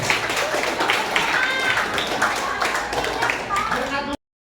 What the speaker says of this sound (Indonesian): Kita tepuk tangan lagi untuk Ajim